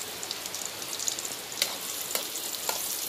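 Chopped onion sizzling in hot oil as a tempering is fried, a steady soft crackle with scattered sharper pops, fairly quiet and close, no voices.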